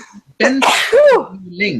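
A single sharp sneeze bursts out among voices on an online group call, and people talk before and after it.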